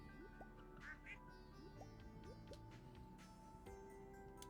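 Ducks in a coop on the farm in the video game Stardew Valley give several short, clear quacks over a steady low game ambience, spaced irregularly across a few seconds.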